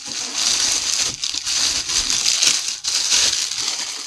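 Packaging for a Canon 7D battery grip being pulled out and handled, continuous crinkling and rustling of plastic and paper close to the microphone, with brief pauses and no speech.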